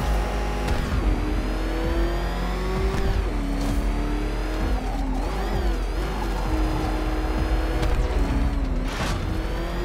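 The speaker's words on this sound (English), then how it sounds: "Can that ramshackle motor handle this?" The Batmobile's engine in Batman: Arkham Knight revs hard and continuously, its pitch rising and dipping as the car accelerates and drifts, with occasional tire squeals. The sound is loud and close throughout.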